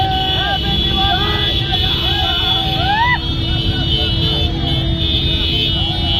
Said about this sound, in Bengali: হর্ন এবং হোলি সব এক হয়ে গেছে একাকার